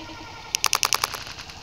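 A wet, water-activated seed pod bursts in a quick burst of sharp popping cracks, about eight snaps in rapid succession lasting under a second, close by and otherwise quiet.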